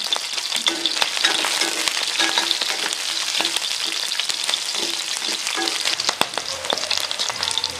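Onions sizzle and fry steadily in hot oil with mustard seeds and dried red chillies, a dense close crackle with light stirring scrapes and no talking.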